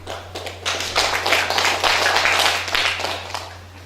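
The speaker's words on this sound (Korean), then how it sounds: "박수 부탁드리겠습니다" Audience applause at an award ceremony for a national poetry recitation contest, a dense, close burst of clapping from a crowd that swells and then holds steady for several seconds with a low hum underneath.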